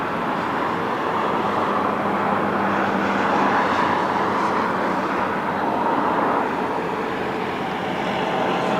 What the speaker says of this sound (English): Aerowings on short final from Berlin.